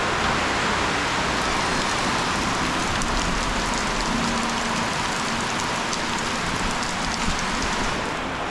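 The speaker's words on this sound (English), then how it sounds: "this is what happens when it rains here this heavily" Heavy rain pours without a break in a remote Venezuelan village, a dense, even hiss of drops drumming on nearby surfaces.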